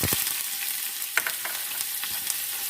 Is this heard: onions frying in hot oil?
yes